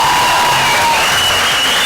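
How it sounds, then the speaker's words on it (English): A club audience applauds loudly, a dense, continuous wash of clapping and crowd noise that fills the whole moment, with steady musical tones running underneath. "Round of applause."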